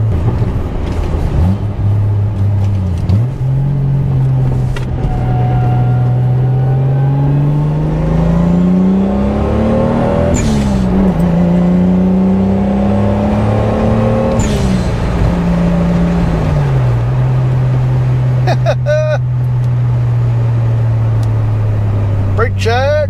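A 200-horsepower MK3 Toyota Supra Turbo engine drones steadily from inside the car while driving, its pitch climbing and falling through several gear changes over the whole stretch, with a brief whoosh near the end.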